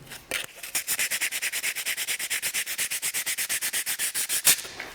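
120-grit sandpaper is rubbed over wooden notebook covers in fast, even back-and-forth strokes, about seven per second, making a close, loud, rhythmic scratchy rasp with no talking.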